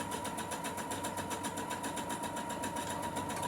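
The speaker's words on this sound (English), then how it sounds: "So I literally will sew it onto the other piece" Electric sewing machine running steadily, stitching two fabric pieces together to line them up, with a continuous close whirring hum and fast rhythmic needle pulses throughout.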